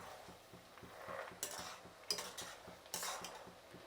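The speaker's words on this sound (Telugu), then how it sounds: "ఈ పల్లీలు కూడా బాగా వేగాలండి, ఇలా కలుపుతూనే ఉండాలండి" Peanuts being stirred while roasting in a pan for homemade mixture, a steady scraping rattle with repeated soft clinks of the spoon against the pan, close and moderately loud, with no voices.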